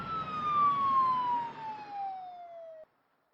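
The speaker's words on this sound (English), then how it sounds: "speeds out of the building with her sirens blaring and her lights flashing red and blue" A police car siren wails in one long, steadily falling tone over a low engine rumble, then stops abruptly.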